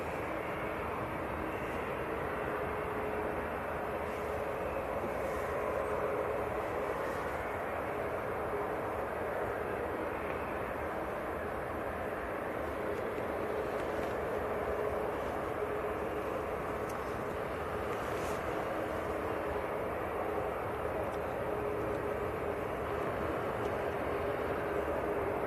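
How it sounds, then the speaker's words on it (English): Saudi airliner taxis out at Manchester Airport, a steady, distant jet engine roar and hiss holding level throughout with no talking. "So this is the Saudi that's taxiing out."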